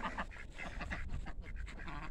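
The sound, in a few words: ducks quacking on a homestead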